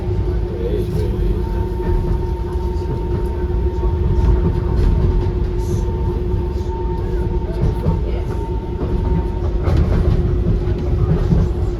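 A DLR B92 stock light rail train runs from Lewisham towards Bank with a steady loud rumble and rolling rail noise throughout, heard from inside the carriage, with a faint hum and occasional voices under it.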